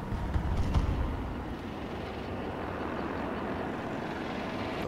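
A helicopter in Battlefield 2042 gives a low, steady rotor rumble and drone, fairly faint and continuous, with no speech.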